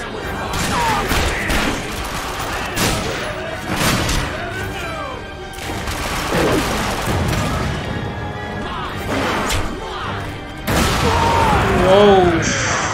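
Gunfire in The Darkness II crashes through a chaotic fight, with repeated heavy shots, impacts and booms over a dense game mix while people talk.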